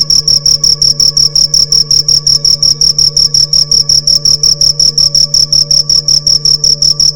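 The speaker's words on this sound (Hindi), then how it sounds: "तो ये आवाज है एक झिंगुर नाम के कीड़े की।" Cricket chirps in rapid, evenly spaced pulses, a loud, high, shrill trill repeating steadily and close, with no voices.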